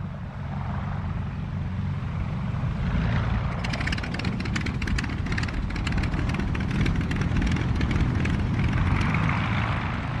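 A de Havilland DH-4 biplane with a Liberty engine flies past, its steady propeller and engine drone loud and continuous, with a rough buzzing edge that thickens midway through.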